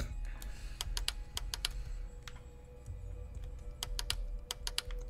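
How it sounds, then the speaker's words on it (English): Crisp, near mouse clicks from the Howler farm mystery puzzle game, arriving in irregular bursts and doubles over a low steady background hum, with no talking. "Keep clicking until it's solved."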